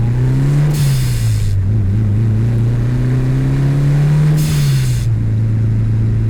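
Turbocharged Mitsubishi Evo 6 with a 4G63 engine accelerating hard through short gears, loud and close, the engine note rising, dipping at shifts and climbing again, with a sharp hiss bursting out twice between pulls.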